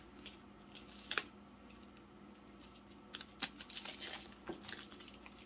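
Scissors snip through plastic wrap in a few short, quiet cuts, with soft crinkling and rustling of the wrap between them.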